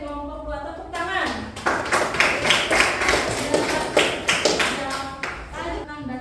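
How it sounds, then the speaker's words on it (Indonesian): A classroom of students breaks into applause after a group's answer, a burst of rhythmic clapping close and loud, with brief spoken voices just before the clapping starts and as it ends. "Tepuk tangan"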